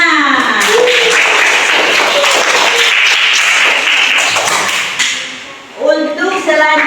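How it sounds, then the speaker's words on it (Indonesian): Classroom of students clapping their hands together in a dense burst of applause that fades out, followed by a brief voice. "Tepuk tangan."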